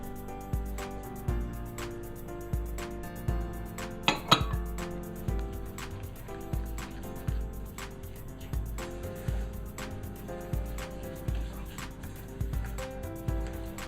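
Coconut being mixed into a lumpy cake batter with milk and brown sugar in a bowl, the utensil scraping and clinking steadily against the bowl in repeated strokes, close and fairly clear, with background music.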